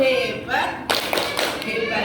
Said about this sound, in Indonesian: kita kasih aplaus untuk Mbak Lucy dengan tepuk hebat